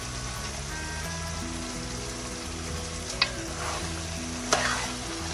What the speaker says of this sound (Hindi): मसालों को अच्छी तरह से चिकन के अंदर मिक्स कर लेंगे और अच्छी तरह से भूनेंगे